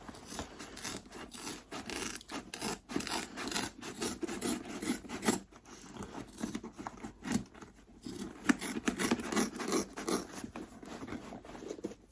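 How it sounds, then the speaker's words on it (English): Steady rasping and rubbing as the bottom panel of a Karvi Mini backpack is trimmed, a continuous scraping texture with short pauses, close and moderately loud, no talking. "I'm gonna trim down my bottom panel a little bit more."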